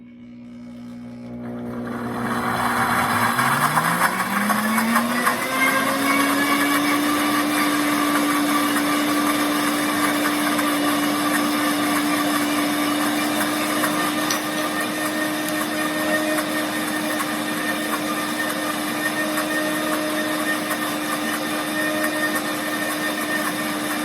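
A Pampered Chef Deluxe Cooking Blender blending baked oats spins up with a rising motor whine, then holds a loud, steady high-speed roar for about twenty seconds.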